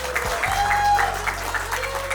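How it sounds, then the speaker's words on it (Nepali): Guests at a Christian wedding in Sikkim break into a short burst of applause, a dense patter of clapping hands lasting a couple of seconds. "ताली बजाउनुहोस्।"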